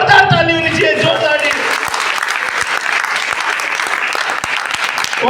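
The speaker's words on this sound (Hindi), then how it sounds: "बार जोरदार ताली होनी चाहिए" Loud, sustained applause from an audience at a company event, dense clapping that starts mixed with a voice and then continues strong and steady on its own.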